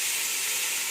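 Tomatoes sautéing in a pan for mushroom biryani, a steady, close, broadband sizzling hiss with no break.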